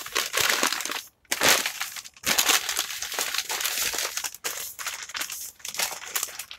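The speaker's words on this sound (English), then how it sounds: "You can hear it's paper because it's rustling, obviously." Paper bag being rustled and crumpled by hand, loud and close, in bursts of crinkling with a couple of brief pauses, no talking.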